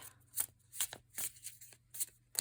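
Soft, rhythmic overhand shuffling of a thin cardstock mini card deck, about six crisp slaps of cards dropping at a steady pace, close and quiet over a faint hum.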